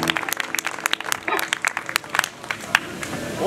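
An audience applauds at a live music show with scattered, uneven claps that fade and swell, and a voice speaks over them.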